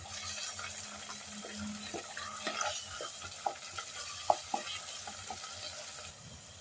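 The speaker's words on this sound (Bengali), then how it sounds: "এবার আমি সব কিছু ভালোভাবে মিশিয়ে নেব।" Chana masala with tomato paste is stirred in a pan. A soft, continuous sizzle runs under scattered scraping clicks of the spoon, moderately close with no voices.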